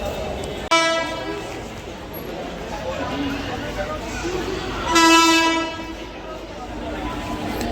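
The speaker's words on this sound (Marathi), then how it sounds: "आली ट्रेन" The Kutch Express pulls into a railway station platform with a loud horn blast near the start and another a few seconds later, over a continuous rumble of rolling wagons, with people talking nearby.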